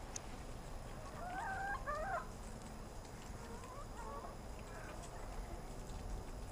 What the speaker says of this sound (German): Um die Hühner was zu picken.